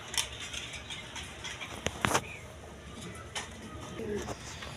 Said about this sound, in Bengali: এখানে এক পেয়ার গিরিবাস কবুতর আছে, হাই ফ্লাইং গিরিবাস কবুতর